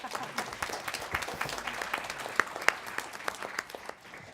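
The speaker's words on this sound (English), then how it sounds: "a round of applause for our panelists today" An audience applauds panelists at a civic club forum, with a steady round of many hands clapping and distinct individual claps standing out before it fades.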